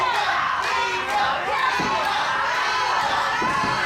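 A wrestling crowd at a RISE Ascent women's match between Dust with Rosemary and Leva Bates cheers in a sustained roar that rises and falls, with voices and shouts mixed through the noise.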